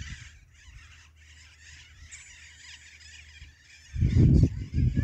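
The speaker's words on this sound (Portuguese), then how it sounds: "A zoada das araras." Macaws squawk from a tree in a harsh, raspy chorus of overlapping calls, moderately distant, before a louder close rumble of handling noise at the end.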